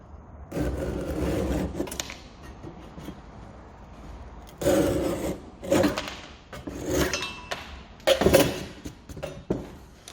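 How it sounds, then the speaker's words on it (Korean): A hand saw cuts through a wooden dowel in three bursts of rapid back-and-forth rasping strokes, close and fairly loud, with quiet pauses between them. "이렇게 톱을 문지르고 이제 한번 잘라 볼게요"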